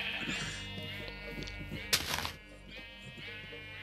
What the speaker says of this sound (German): Ich fühle mich bedrängt von Schafen.